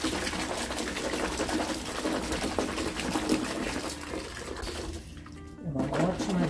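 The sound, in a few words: water poured onto white clothes with vinegar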